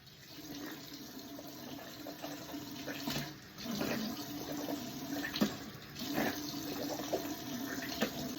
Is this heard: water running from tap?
yes